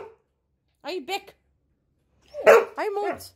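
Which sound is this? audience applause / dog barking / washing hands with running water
dog barking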